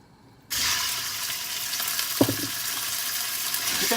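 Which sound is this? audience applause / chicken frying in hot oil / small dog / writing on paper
chicken frying in hot oil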